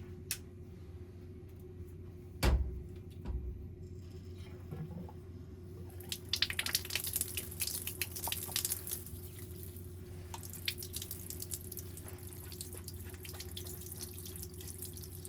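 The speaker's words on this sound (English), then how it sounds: "So give that filter a wash." A heat pump tumble dryer filter is rinsed under a running tap, the water spattering and splashing steadily after a quiet start with a knock or two, close and unaccompanied by speech.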